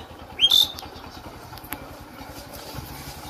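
A motorcycle engine idles steadily at close range, a low rhythmic putter running throughout beneath a brief sharp chirp near the start.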